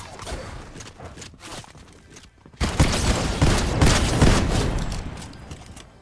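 A sniper rifle shot rings out in a Fortnite match: a sudden, loud blast about halfway through breaks a quieter stretch of game noise and is followed by sustained heavy in-game sound.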